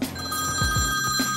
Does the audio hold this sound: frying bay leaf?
no